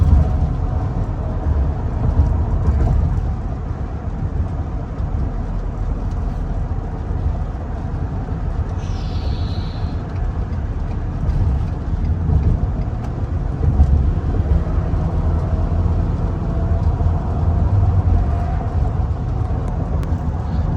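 A twin-turbo pickup truck drives along the interstate, with a steady, loud engine and road roar heard from inside the cab throughout, plus some wind buffeting and no clear talking.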